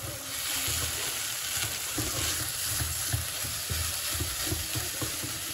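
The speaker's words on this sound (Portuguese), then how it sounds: "E aí, já vou refogar a minha carninha moída, tá bom?" Ground beef sautés with onion and garlic in a pan, producing a dense, continuous, close-up sizzle with a busy crackle and an even loudness throughout.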